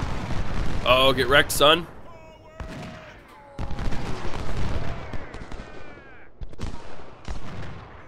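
Civil War infantry volleys crackle in Ultimate General: Civil War at the First Battle of Bull Run, repeated sharp musket fire rolling in bursts, with someone talking over the start.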